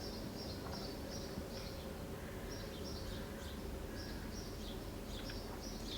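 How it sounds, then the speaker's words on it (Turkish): Faint birds chirping in repeated high twittering phrases, distant and partly buried under a steady broad background hiss. "Muhtemelen kuş sesleri duyuyorsunuz."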